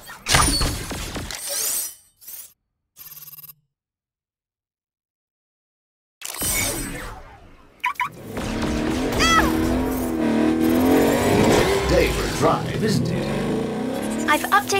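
Car arriving and pulling away in the action video game Agents of Mayhem, an engine rising and revving loudly amid game effects and music after a quiet gap, with a voice speaking briefly early on.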